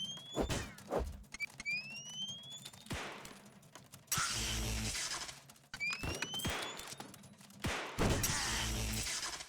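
Rapid bursts of gunfire in the bullet-hell video game Furball Blitz!, with whistling, streaking shots and heavy impacts, repeating in loud volleys with short quieter gaps between.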